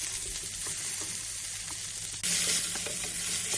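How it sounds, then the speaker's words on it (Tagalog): Onion, garlic and ginger sizzle in hot oil in a pan, a constant frying hiss that jumps louder partway through as the pieces are stirred, with faint scraping clicks and no talk. "isosote lang po natin yung ating sibuyas, bawang at ang ating luya"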